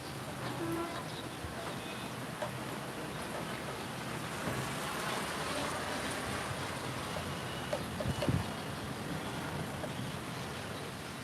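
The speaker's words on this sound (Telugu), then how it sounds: "సరదాగా స్టార్ట్ అయింది వర్షం ఇంకా అంతా కంటిన్యూ అయ్యేటట్టుంది" Steady rain from a sudden cooling shower after hot weather, a continuous even hiss of drops lasting throughout, with a brief louder patter near the end and no voices.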